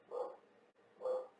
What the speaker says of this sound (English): there goes Jolene, my puppy, because I'm in the camera